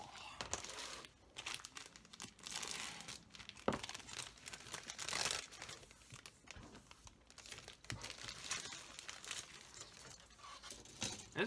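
Plastic sprue bags from a Dragon StuG III Ausf. A model kit being handled and opened, giving sustained close crinkling and tearing of thin plastic with irregular bursts, fairly quiet.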